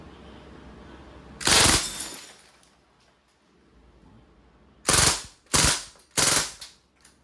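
A Crosman SBR Flat Dark Earth airgun firing on full auto: one sharp burst, a pause, then three quick loud bursts close by.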